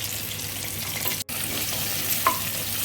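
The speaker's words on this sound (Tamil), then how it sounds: "நல்லா ஆனியன் நல்லா கொஞ்சம் கோல்டன் ப்ரௌன் ஆகிற வரைக்கும் நல்லா வதக்கி விடலாம்." Onions and green chillies frying in oil with whole spices in a pressure cooker for egg biryani, an even close sizzle with faint stirring scrapes and one brief dropout partway through, no talk.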